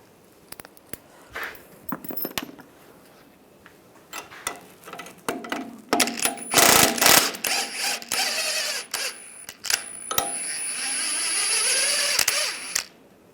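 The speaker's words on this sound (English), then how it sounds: "I'm using a 17mm wrench on the top for the nut and a 16mm socket for the bolt." A ratchet and socket work the lower shock bolts loose on a 2007-2013 Chevrolet Silverado 1500 while a wrench holds the nut. Irregular clicks, metallic clacks and scraping come close up in bursts, with a longer stretch of louder mechanical rattling midway.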